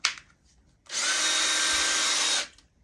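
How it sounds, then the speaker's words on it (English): A power drill spinning a chimney brush up a flue spins up and runs at high speed for about a second and a half, a loud whirring whine, then winds down to quiet. "you cut your drill on high"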